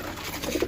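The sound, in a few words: pigeons cooing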